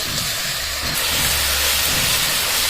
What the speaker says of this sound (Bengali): মশলাটা এমনভাবে কষাতে হবে যাতে কাঁচা গন্ধ না থাকে ভালো করে কষিয়ে নেবো আমি